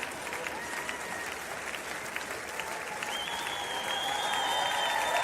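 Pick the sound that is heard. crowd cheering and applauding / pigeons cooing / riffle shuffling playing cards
crowd cheering and applauding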